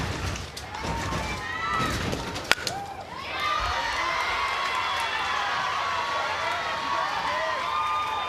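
Crowd cheering at a Little League softball game in Greenville for a North Carolina team, a sustained roar of shouts and applause, with a sharp knock early and talk over the start.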